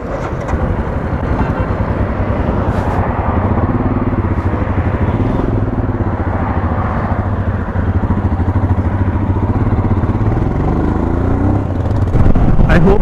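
Royal Enfield Himalayan motorcycle ridden off-road near Dandiganahalli Dam, a loud, steady close engine drone mixed with wind buffeting and rattling, continuous throughout.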